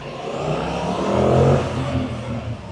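A new 2025 Yamaha MT-07 middleweight naked motorcycle pulls away from a car park, its engine revving up and rising to a peak before easing back into a steady drone, close and loud throughout with no talking.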